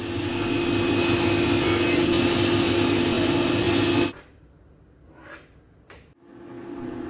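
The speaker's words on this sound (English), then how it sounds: "First, I break down all the components on the table saw." A table saw runs at a steady loud whine while cutting wooden components for a ladder-style TV console cabinet, then cuts off abruptly, leaving a quieter workshop with a few faint knocks.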